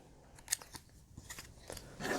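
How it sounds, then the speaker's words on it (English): Scissors snip through plastic packaging of a Nintendo Switch game, several short crisp cuts close by with rustling in between. "Got my scissors here."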